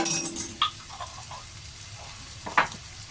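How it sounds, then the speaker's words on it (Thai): Black mushroom sauce, about two spoonfuls, goes into a hot pan of spaghetti and sizzles softly, with a few light clinks and stirring scrapes over a quiet frying hiss. "ทีนี้เรามาใส่ซอสเห็ดดำเข้าไปจ้ะ"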